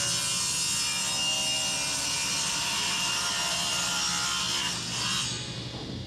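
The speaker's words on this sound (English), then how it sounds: "We're cutting a big panel, putting it against the fence. That's not an ideal way to use a table saw" Table saw ripping through a large wood panel guided against the fence, a steady loud whining cut held for about five seconds before the blade noise drops away at the end.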